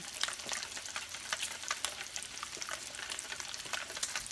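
Crumbled Mexican cotija cheese stirred into an egg mixture for a frittata, with steady frying sizzle of greasy bacon nearby and soft clinks and scrapes of the utensil.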